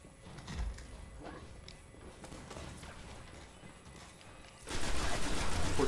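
Automatic rifle fire in the sci-fi shooter Destiny, a busy stretch of rapid shots and battle noise that swells into a louder, denser burst near the end.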